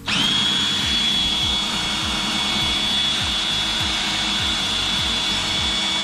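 A power tool whines loudly and steadily as it spins off a bolt near the number plate of a KTM 150 dirt bike. A rapid rhythmic churning pulse sits under the constant high motor tone.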